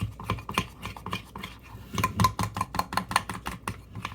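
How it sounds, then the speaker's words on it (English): A spoon stirs lemon juice into a blueberry muffin glaze in a bowl, making a quick series of close clicks and scrapes in an uneven, brisk rhythm. "So I'm going to put another tablespoonful of lemon juice in here. And I'm going to stir it again."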